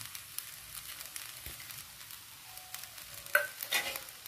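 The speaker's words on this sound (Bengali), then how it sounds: "দিয়ে একটু উল্টে পাল্টে ভালো করে নেড়ে নেব।" Food frying in a pan with chopped coriander added is stirred and turned, giving a faint sizzle under soft scraping and a few clinks of the utensil against the pan near the end, with no talk.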